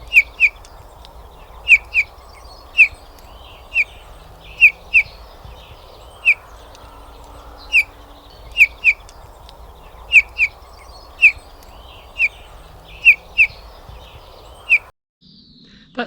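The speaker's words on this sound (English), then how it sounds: "That's the bullfinch." A bullfinch sings at dawn on a UK smallholding, giving short clear whistled notes, often in pairs, repeated at a steady unhurried pace over a soft background hum.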